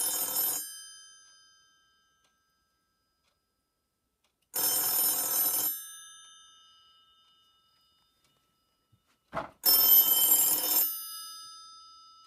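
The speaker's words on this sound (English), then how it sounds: "the ringer actually sounds quite different from the Western Electric 2500 or 500" A telephone's mechanical bell ringer, unlike a Western Electric 2500 or 500, rings in three bright, metallic bursts of about a second each, separated by pauses of silence, with a faint click before the last.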